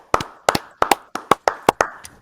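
Hands clap in a short, steady run of about a dozen sharp claps in quick pairs, close and crisp, with no talk over them.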